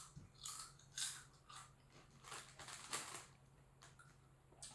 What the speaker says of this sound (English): can you hear the crunch there?